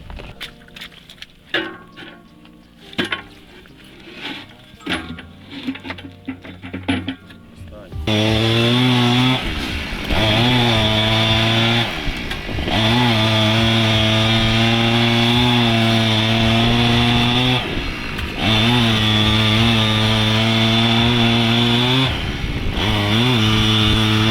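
A power saw cuts a strip of ice during the salvage of a sunken bridge. After scattered clattering, the engine roars loud and steady for the rest of the clip, dipping briefly as it bites.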